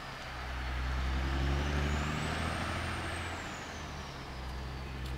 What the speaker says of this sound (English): a log truck just came by